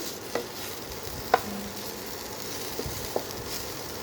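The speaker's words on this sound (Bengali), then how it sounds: "বেগুনটা দিয়ে ভালো করে নেড়ে ভাজা ভাজা করে নিলাম" Eggplant pieces being stirred and fried in a pan: a steady low sizzle with a few light scrapes and taps of the spoon, close and fairly quiet.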